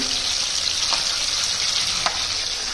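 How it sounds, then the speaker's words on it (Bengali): Fish pieces coated in turmeric and chili frying on a tawa, a steady broad sizzle with a couple of faint clinks or stirs, close and continuous with no talk. "প্রথমে মাছগুলো কেটে নিয়ে ভালোভাবে ধুয়ে করেছে হলদি মরিচ মিক্স করে তাওয়ায় ভাজছি।"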